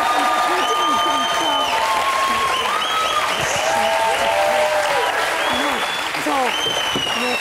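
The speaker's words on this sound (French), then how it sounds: "N'applaudissez pas," A TV talk-show studio audience claps in a sustained, even burst while people keep talking over the applause throughout.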